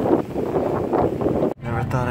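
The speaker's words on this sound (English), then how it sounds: "and it's windy" Steady wind in southern Spain buffeting the microphone with a low roaring rumble, briefly dropping out before gusting again.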